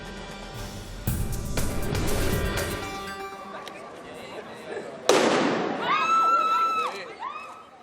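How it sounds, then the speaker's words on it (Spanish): A police bomb squad's controlled detonation of a suspicious package: a sudden, sharp explosive blast cuts through background commotion, followed by a fading rumble and high whistling tones. "Lo que acaban de escuchar es el momento en el que los artificieros de la Policía Nacional detonaban un paquete"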